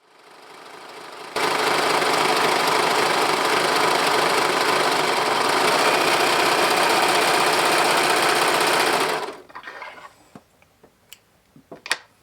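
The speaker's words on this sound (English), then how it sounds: "I am checking to see if the serger settings work well with this fabric on a piece of scrap." A serger overlocker runs steadily for about eight seconds as it stitches a scrap of fabric, a dense mechanical whir that starts abruptly and stops. A few faint clicks and handling sounds follow.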